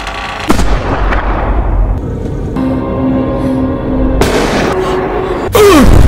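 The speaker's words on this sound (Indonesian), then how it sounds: "si ibu akan membokong Michelle dengan senapan somplak" A sawn-off shotgun blast in a horror film fires with a sharp broadband boom near the start, followed by further loud bangs and a sweeping tone amid a dense, rumbling soundtrack.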